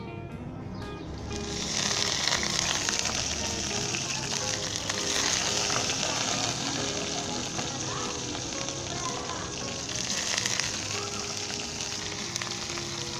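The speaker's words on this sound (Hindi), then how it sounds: "और दोस्तों इसे तकरीबन 2 से 3 मिनट तक फ्राई कर लें।" Sliced onion, ginger and garlic frying in oil in a pan for a yogurt chicken curry, a steady loud sizzle and crackle throughout, close up and undisturbed by talk.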